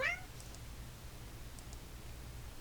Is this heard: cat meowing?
yes